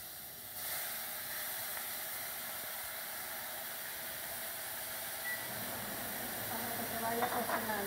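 Raw meat hitting a hot frying pan for chili con carne, giving a steady loud broadband hiss and sizzle that holds throughout and grows a little busier near the end.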